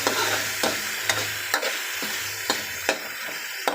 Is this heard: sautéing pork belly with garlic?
yes